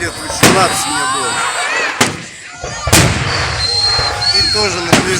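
Festive fireworks salute over Tolyatti's central district on 9 May 2023: three hard, cracking bursts go off a second or so apart, loud and reverberant, with voices chatting underneath.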